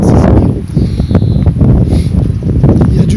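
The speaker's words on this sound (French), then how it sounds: "il y a du vent, tu m'excuseras pour le son" Strong wind buffets the microphone outdoors on a hillside trail, a loud continuous low roar with gusty swells and faint rustling.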